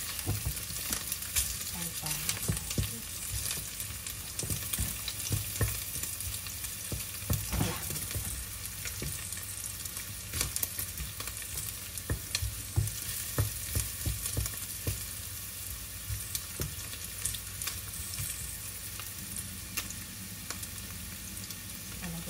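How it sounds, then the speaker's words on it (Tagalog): Garlic sautéing in a pan for a shrimp paste squash and green bean dish crackles with a soft continuous sizzle, joined by frequent scraping stirs and taps throughout, close and fairly quiet. "Nagigisa na yung bawang na."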